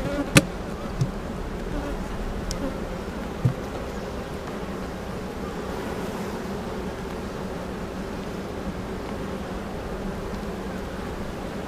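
Honeybees swarm around an open beehive during an inspection, giving a steady, close, continuous buzz throughout with a few faint clicks and no talking.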